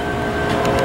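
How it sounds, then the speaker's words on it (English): A loud, continuous rumbling roar with a steady hum fills the short moment as a northbound passenger train rolls past close by, near Lindbergh Field. "Oh, I hear a train."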